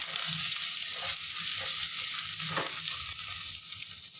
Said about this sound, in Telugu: దాంట్లో కొంచెం మధ్యలో పెట్టుకున్న పచ్చిమిరపకాయలు పెట్టాను